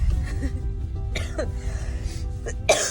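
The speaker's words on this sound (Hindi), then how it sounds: "लोग खांसी आने लगी." A few short coughs and throat-clearing sounds, close by, scattered over a low background hum.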